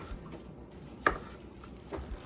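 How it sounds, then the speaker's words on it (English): A knife slices food for a banh mi on a board, making two faint, light taps about a second apart in a quiet kitchen. "So let's do a couple more little slices."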